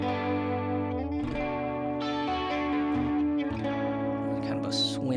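Electric guitar played through a Neural DSP Tone King Imperial with a deep, slow chorus, held chords changing a few times with a swimmy, warbling shimmer and a bright pick scrape near the end.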